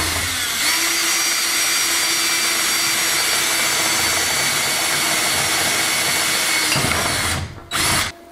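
A power drill whines steadily for several seconds while boring holes through solar panel mounting clamps, then briefly stops and gives a short final burst.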